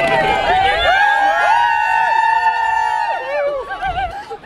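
A happy crowd at the Greater Manchester Marathon 2019 cheers and whoops loudly from close by, with high voices shouting over each other in a sustained swell that thins out toward the end.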